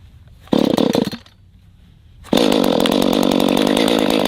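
A 30cc Echo CS310 chainsaw, hot-rodded and fitted with a long bar, revs in a brief burst, drops back to a low idle, then roars up again to a loud, sustained full-throttle whine, close by with no voices.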